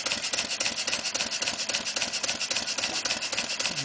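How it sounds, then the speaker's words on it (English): A Clarkson vertical steam engine with Stephenson valve gear chugs steadily at about 220 rpm, a quick, even rhythm with rapid regular puffs and mechanical clatter close up, continuous throughout. "Now the engine seems to be running quite nicely there"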